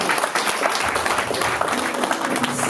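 Church congregation at an evangelical praise service applauding and acclaiming, with dense continuous clapping and crowd cheers close by, with voices mixed in.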